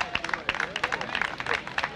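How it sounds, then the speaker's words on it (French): A crowd gathered around a podium at the Guérande salt festival claps for the competitors, a short burst of dense, fairly distant applause. "je vous demande de les applaudir très fort"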